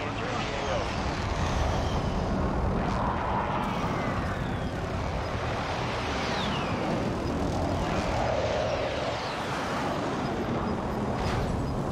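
A friendly recon plane in Call of Duty: Cold War Warzone, heard as a steady, loud aircraft engine roar that sweeps overhead throughout, with game noise and speech underneath.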